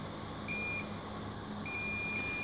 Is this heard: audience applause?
no